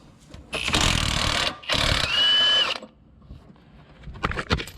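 A Ryobi power tool fires two short bursts, whirring and rattling as it works a bolt loose from the front bumper of a 2002 Ford Ranger during collision repair. Quiet pauses come between the bursts, and no one speaks.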